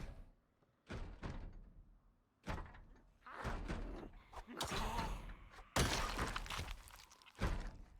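Zombies in a video game bang on a door as a series of loud, irregular thuds and slams, some clustered and others isolated, with a few sharper crashing hits and faint background sound between them.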